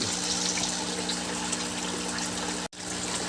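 Water gushes and splashes steadily into a fish breeding tank during a water change, a continuous loud rushing flow that cuts off briefly near the end, with no talking.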